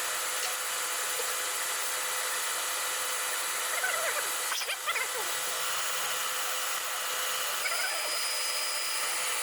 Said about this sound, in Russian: Далее на свою глубину высверливает сверлом 19 мм, точнее сверлом, переточенным под типа фрезу.